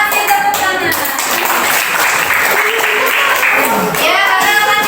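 Pupils in a classroom give a sustained round of applause, dense clapping running throughout at an even, fairly loud level.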